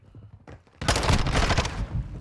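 Gunfire from a shotgun in a first-person shooter game, a loud burst of shots that starts abruptly and stays dense, following a quieter stretch at the start.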